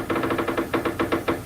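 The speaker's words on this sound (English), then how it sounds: "That sounds like a door to me." A rapid series of about nine knocks on a door, evenly spaced and fairly close, sounding alone without any talk over them.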